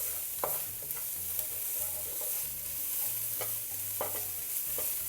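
Chopped garlic and shallots stir-fried in a wok with a soft steady sizzle and regular light scrapes and taps of the spatula, close but fairly quiet.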